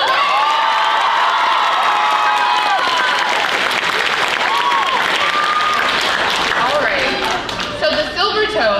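School audience at an international day event claps and cheers loudly and continuously, with high shouts and whoops rising over the dense applause before it tapers near the end.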